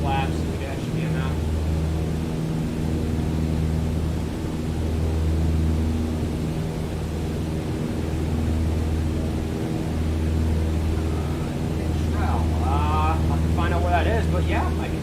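Steady, loud aircraft engine drone from a small plane climbing toward about 1,000 feet with 20 degrees of flaps in Microsoft Flight Simulator, a constant low hum with brief clicks and tones over it.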